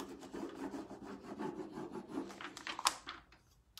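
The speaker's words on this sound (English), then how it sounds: "a little more rubbing." Rubbing a transfer onto a metal surface by hand, a steady dry scratchy rasping that runs continuously at close range, with a sharper scrape near the end.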